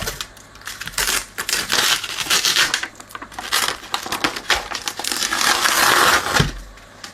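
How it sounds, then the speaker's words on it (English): Label being peeled off a plastic part of a Tom Evans Mastergroove SR mkIII turntable, giving close, crackly tearing and crinkling in irregular bursts with no talk. "Start by peeling this off."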